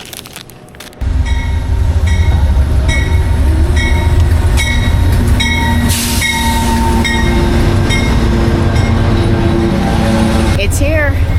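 A long-distance passenger sleeper train running from California to Chicago pulls into the station, a loud continuous rumble of rolling cars with rhythmic wheel clicks, tonal hum and a squeal near the end, while people talk nearby.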